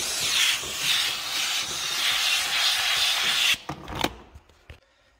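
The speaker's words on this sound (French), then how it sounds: "La vapeur." A car detailing steam cleaner sprays a loud, steady hiss of steam for about three and a half seconds, then cuts off into a few quieter clicks and near silence.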